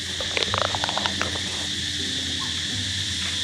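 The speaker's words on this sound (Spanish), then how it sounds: "¿Escuchan las chicharras?" Cicadas buzz in the hot island countryside of Koh Phangan, Thailand, a steady high-pitched drone under scattered chirps and light ambient noise.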